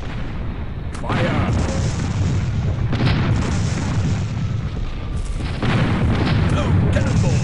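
Cannons on an airship fire cannonballs in a multiplayer game, giving a few heavy, booming blasts over a steady loud rumble of wind and engine noise, with voices calling out in the background.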